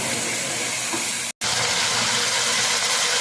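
Beef deep-fries uncovered in a pan, making a dense, steady, loud hiss of sizzling oil that cuts out for a moment and then carries on unchanged.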